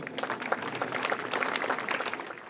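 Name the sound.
audience applause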